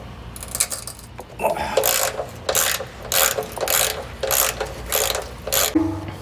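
Ratchet wrench loosening and removing a 12 mm bolt on a Toyota 4Runner near the brake line, heard as loud bursts of clicking strokes in a steady back-and-forth rhythm, close up with no talking.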